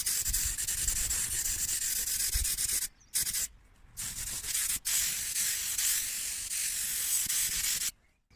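A spray gun hisses steadily as it lays paint onto a Vauxhall Nova SR tailgate, broad and continuous bursts broken by short pauses and a final cutoff.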